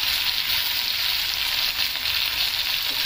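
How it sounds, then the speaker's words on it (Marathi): Tomatoes sauté in a pan for a curry, giving a constant, close, even frying hiss without pauses or speech. "जरा आपण टमॅटो थोडे परतून घेऊया."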